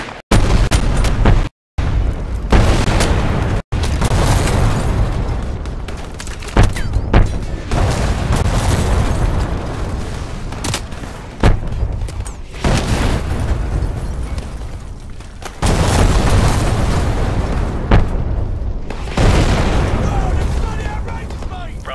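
Gunship fire mission striking danger close against enemy armor and infantry in Call of Duty Modern Warfare: repeated loud explosions and booms in bursts, close and heavy, with radio voices and shouting over the blasts.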